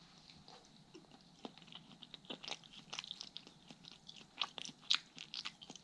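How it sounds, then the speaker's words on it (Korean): Close, quiet crunching of someone chewing firm, undercooked potato from braised spicy chicken, irregular bites growing louder toward the end, with no talking. "여러분 감자가 서걱서걱거려요."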